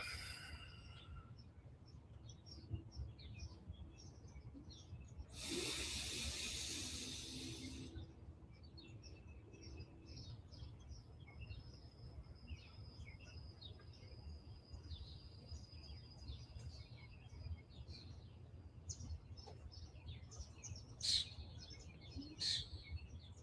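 Faint outdoor birdsong with intermittent high chirps and insect-like trills over a low steady background rumble, plus a brief burst of broadband noise early on.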